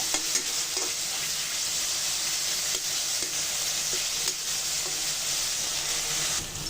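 Chicken frying with green chillies and onion in a pan gives a steady, loud sizzle with scattered stirring scrapes throughout, heard close and with no voices.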